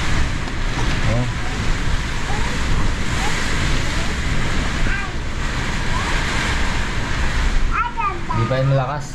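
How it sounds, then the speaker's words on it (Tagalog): Typhoon Marce driving heavy rain and howling wind outdoors, a loud, dense, unbroken roar of downpour and gusts, with voices breaking in near the end. "napakalakas ng ulan at hangin mga kapangil"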